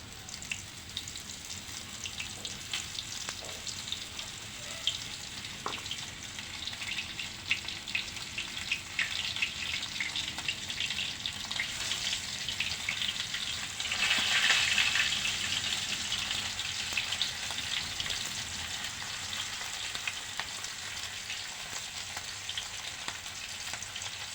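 Fish coated in spiced flour fries in hot oil, giving a steady, fairly quiet hiss and crackle that swells briefly midway, with no talking.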